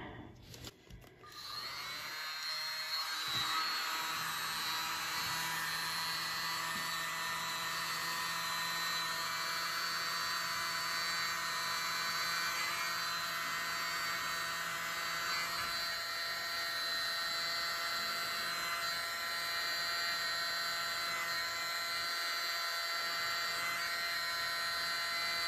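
A small handheld mini blower runs steadily and loud at close range over an acrylic paint pour, a continuous whirring drone with a high whine that barely changes for the whole span.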